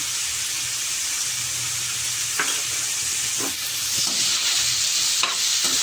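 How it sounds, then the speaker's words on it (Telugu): Bitter gourd and dried fish pieces fry in a pan with a steady, close sizzle and hiss, broken by a few light stirring scrapes, with no voices. "కొంచెం ముక్కలు వేగుతాయి, ముక్కలు పట్టిద్ది."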